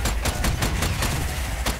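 Loud gunfire in the co-op video game Strange Brigade: a rapid burst of shots, around eight sharp reports in under two seconds over a dense low rumble.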